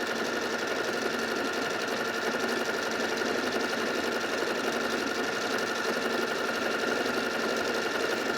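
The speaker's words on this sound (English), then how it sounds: "it basically sews a few straight stitches, and then it sews a spiral" A Pfaff 3800 sewing machine runs steadily while stitching a pattern of a few straight stitches followed by a spiral, a close, even mechanical whirring with rapid needle clatter for the full stretch, no voices.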